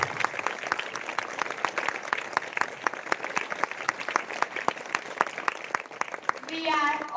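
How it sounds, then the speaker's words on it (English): An audience at a Republic Day celebration applauds a chief guest with steady, sustained clapping that carries through the whole stretch, and a voice comes in briefly near the end. "Please welcome him with a huge round of applause."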